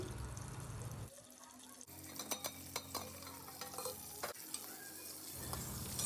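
Green chillies and salt fry in a pan with a soft background sizzle and intermittent stirring clicks and scrapes, fairly quiet and up close.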